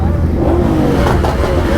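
Kawasaki ZX10R racing motorbike engine revving at a college event, a loud continuous roar with rising and falling pitch that fills the whole stretch, crowd noise faintly beneath.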